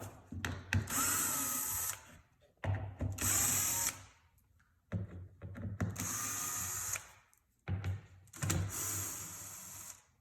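A power driver spins out T25 Torx screws on a 2018 Polaris RZR XP 1000 dash panel, four loud close whirring bursts separated by short pauses.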